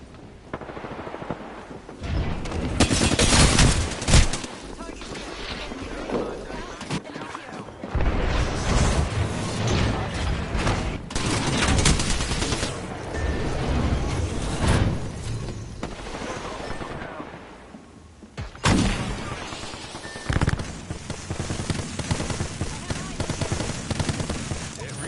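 Gunfire in a shooter video game, repeated bursts of rapid shots and booms layered over steady game noise, loud and sustained with brief pauses.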